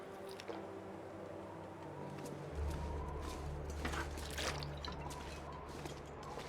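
Food being eaten in The Long Dark, with soft squishy chewing and bite sounds over a steady low game ambience, growing a little louder partway through; no talking.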